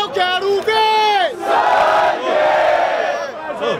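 A crowd at a Brazilian rap battle chants loudly in unison, rising and falling shouted calls that swell into a roaring cheer, close and continuous.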